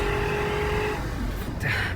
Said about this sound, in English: The engine is a torquey, revvy, acoustical masterpiece.